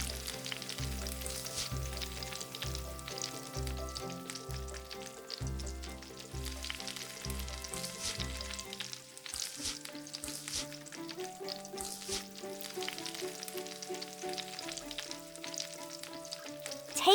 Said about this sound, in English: Let's fry them.